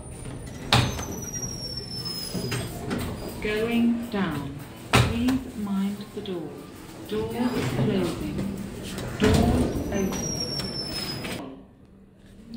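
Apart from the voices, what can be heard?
lift doors sliding closed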